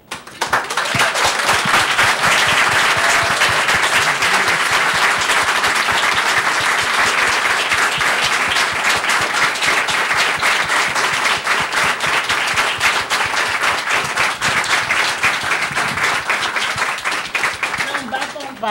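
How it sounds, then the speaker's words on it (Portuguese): An audience bursts into loud, sustained applause after a debate on human rights, conflicts and migration, the dense clapping rising quickly and holding strong for the full stretch with some voices mixed in. "Palmas."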